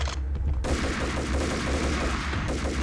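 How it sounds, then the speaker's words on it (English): A gun in the Max Payne video game fires rapidly in a dense, loud burst of shots that continues over a heavy low background rumble for nearly three seconds. "This gun is so good. It makes such a good sound."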